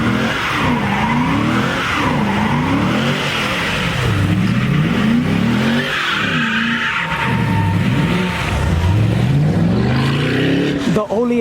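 A boosted Mustang revs hard and skids in a street race, engine pitch repeatedly rising and falling in sweeping bursts with tire squeal, loud and close throughout, with voices shouting over it.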